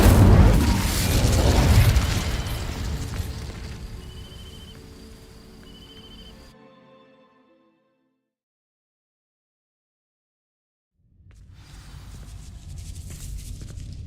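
An Incendio fire spell ignites dry vines in the video game Hogwarts Legacy. A loud boom and whoosh bursts up, then the roar fades over several seconds into silence, and a lower rumble returns near the end.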